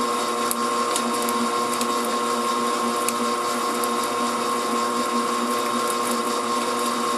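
An electric mixer whips shea butter with a steady, loud, high whine and a constant mechanical hum, running without pause and with no voices.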